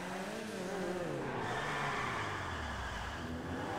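The small Weeny Issi Classic car engine in GTA 5 hums steadily with shifting pitch, continuous and fairly loud, with faint tire noise and no voices.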